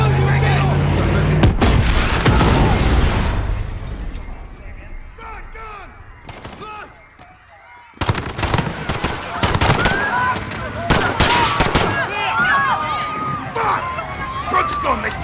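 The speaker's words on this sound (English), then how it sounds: "There's been a detonation at Piccadilly Circus. Shots fired, officers down." Gunfire and explosive blasts in Call of Duty Modern Warfare 2019 at Piccadilly Circus, loud bursts at the start and again after a quieter stretch, mixed with shouting voices and radio-style talk.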